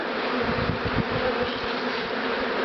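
Honeybees buzz steadily and densely throughout while being moved from an old hive into new hives, a close continuous drone with no voices.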